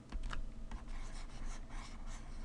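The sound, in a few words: erasing writing on a board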